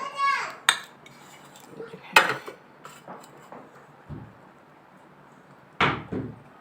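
Rice, onion and tomato stirred together in a cooking pot: sharp spoon-on-metal clanks and scrapes come in a few spaced bursts, with quieter shuffling between them and no voices.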